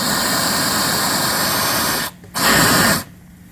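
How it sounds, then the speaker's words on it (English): Steady, loud broadband hiss from a steam boiler's blower valve pushing draft through a perforated ring inside, rushing continuously, cutting out briefly, then surging back for a moment before dropping to a faint residual hiss. "This is the blower valve. You can kind of hear it inside."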